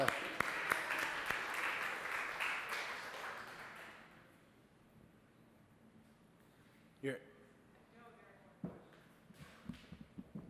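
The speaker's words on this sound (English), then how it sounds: "let's give her a round of applause" Audience applause at a business talk on conversion and sales, a dense wash of clapping for the first four seconds that fades out, followed by quiet room noise and a few faint knocks.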